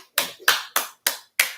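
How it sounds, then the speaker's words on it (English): Five sharp, separate hand claps from one person, evenly spaced and close, with short quiet gaps between them. "Let me applaud this fine-ass chocolate woman."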